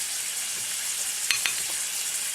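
Rib eye steaks sizzle in butter in a pan, a continuous bright hiss heard up close, broken by two quick clicks from a utensil near the middle.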